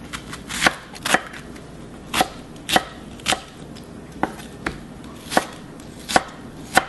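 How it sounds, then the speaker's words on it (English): A knife chops onion on a cutting board, about a dozen crisp, evenly spaced thuds at a slow steady pace, close and alone. "We cut all the vegetables."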